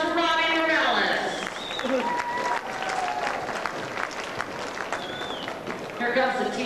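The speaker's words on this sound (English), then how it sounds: "Round of applause for Robbie Morales." Crowd applause for bike racer Robbie Morales at a Christmas Classics bicycle race in Columbus, Ohio, a steady wash of clapping and cheering from spectators beneath an announcer's voice, with whistles and a brief tonal squeal.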